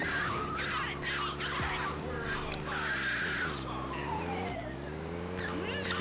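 Police sirens wail over a rumbling car engine in the video game GTA 2, with sliding pitch sweeps as the vehicle swerves, all loud and close.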